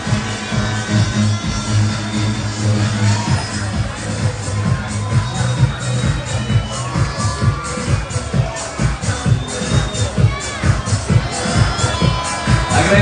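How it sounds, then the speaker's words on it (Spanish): A pageant coronation gala audience cheers and claps, a dense crowd roar with shouts and rhythmic clapping running steadily throughout, loud and close-up. "Quiero que la reciban con un fuerte aplauso"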